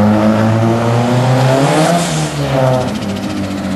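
A Nissan 200SX S13 engine revving hard on a dyno, a loud, close, sustained roar with its pitch rising and shifting throughout.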